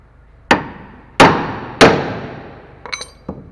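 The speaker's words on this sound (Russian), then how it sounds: "Не у каждого есть съемник, поэтому в принципе можно использовать молоток." A hammer strikes the front suspension of a Renault Master or Nissan Interstar van to free the ball joint: three loud metallic blows about half a second apart, then a few lighter quick taps, close by with no talk.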